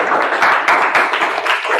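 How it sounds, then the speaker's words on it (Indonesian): A classroom group applauds a student named Sakinah: a short, dense burst of many hands clapping together, fairly loud and close, lasting under two seconds. "tepuk tangan untuk Sakinah"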